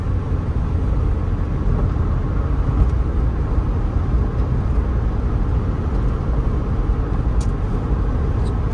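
Steady road and engine drone from inside a 1987 Honda Civic CRX Si cruising in fifth gear around 3,000 RPM, a continuous even hum with no talking.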